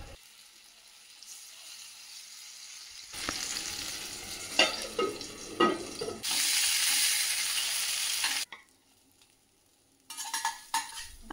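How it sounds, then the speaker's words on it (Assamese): Eggplant pieces fry in a pan in uneven bursts: quiet stretches, then loud rushing sizzle with clattering handling, a long bright hiss, a sudden drop, and a final crackling flare. "আৰু এনেকৈ মই গোটেইখিনি বেঙেনা ভাজিম"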